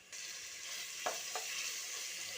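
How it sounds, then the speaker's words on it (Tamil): Browned onions sautéed with ginger garlic paste for a biryani, heard as a steady close sizzle with two quick spoon scrapes in the pan. "இந்த ஸ்டேஜில் இஞ்சி பூண்டு பேஸ்ட்டை நம்ம சேர்ப்போம்"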